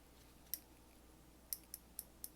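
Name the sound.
Williams MB-52EHA 1/4 inch drive ratchet ratcheting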